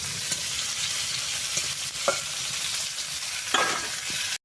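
Cauliflower, potato and eggplant frying in oil together, giving a continuous close sizzle broken by a few scraping stirs and spatula taps.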